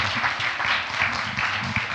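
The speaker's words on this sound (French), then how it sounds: "Est-ce qu'on peut l'applaudir ?" A church congregation applauds steadily for about two seconds, a dense, even patter of many hands clapping at moderate loudness with no voices over it.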